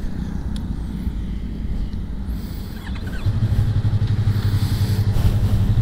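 A Yamaha R3 sport motorcycle fitted with a Ninja 300 chain and sprocket rides toward the highway, its engine a steady low drone amid wind noise that grows louder and more constant partway through.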